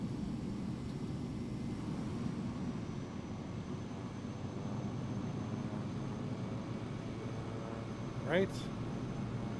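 Airliner taxiing in Microsoft Flight Simulator 2024, heard as a steady, even low engine drone and rumble throughout, with a brief higher tone near the end and a voice speaking briefly.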